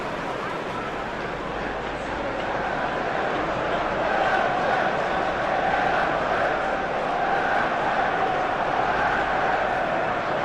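Stadium crowd noise from a Manchester United versus Liverpool Premier League football video game, a steady dense roar with rising chant-like swells midway, continuous and fairly loud throughout.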